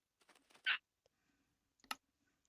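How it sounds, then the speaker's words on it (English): Computer keyboard keys are struck in quick, sparse clicks, with a louder clustered tap and a sharp single press standing out against near silence. "You can hear me hitting my keyboard!"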